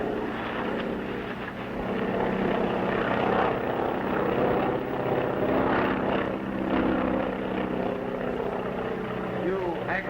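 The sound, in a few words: airplane flying overhead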